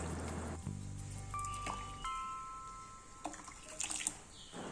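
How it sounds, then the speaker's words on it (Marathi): Soaked rice poured into boiling water with a soft rushing splash, close by, followed by gentle simmering and a few light clatters, while cooking prawn biryani. "आता जो मगाशी आपण भिजवलेला तांदूळ होता तो आपण ह्या पाण्यात घालून घेऊया"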